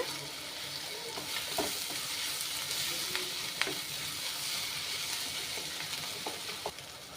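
Beaten egg sizzles and fries in a pan while being stirred, a steady, close crackle with occasional scraping taps throughout.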